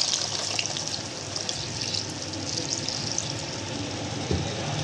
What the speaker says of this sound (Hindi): अब मैं इसमें ऐड करूँगी पानी